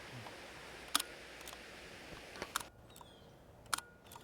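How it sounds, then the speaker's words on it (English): Shutter of an old film camera being cocked and fired: three sharp, close mechanical clicks spaced about a second or more apart, each a crisp double snap over a quiet room background. "Then you focus, then you fire on a button on this side, and then you can kind of advance to the next shot."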